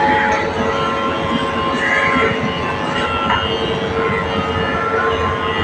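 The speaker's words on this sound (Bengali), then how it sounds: "রাজধানী এলো।" Rajdhani Express pulling into a station, a loud continuous rumble of rolling coaches with wheel squeal and clatter, close and sustained throughout.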